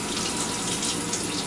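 Kitchen sink tap turned on, running water steadily and fairly loudly for the whole moment, with no talking over it.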